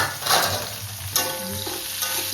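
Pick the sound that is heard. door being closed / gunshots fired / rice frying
rice frying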